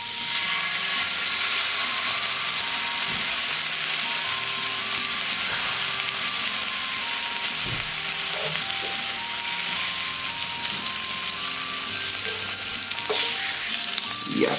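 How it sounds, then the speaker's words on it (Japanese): A good cut of beef sears in a pan over medium heat with a loud, steady sizzle and crackle, occasional utensil taps and scrapes mixed in, close to the pan, with no talk. "中火でじっくりと焼かせていただきます。 じゃあ焼きますよ。"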